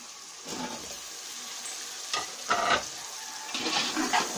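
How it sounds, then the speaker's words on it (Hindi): Peas and carrots fry in a pan for vegetable pulao, with a steady soft sizzle and several louder scraping stirs spaced through it, close and alone. "इनको थोड़ी देर भूनेंगे।"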